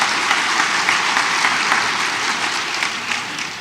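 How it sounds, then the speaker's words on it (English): A community book-event audience applauds in a hall, a sustained, loud wash of many hands clapping that holds steady and then eases slightly toward the end. "Give yourselves a round of applause."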